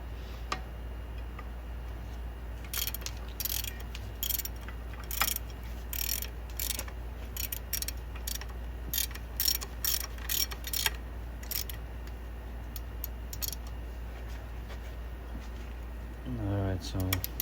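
Wrench tightening a front brake bolt on a Jeep Wrangler JK during a pad and rotor job: irregular clusters of quick ratchet clicks over a constant low rumble, close, with a brief different mechanical rattle at the end.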